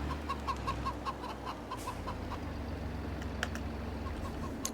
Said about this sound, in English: Oh, mind the chickens.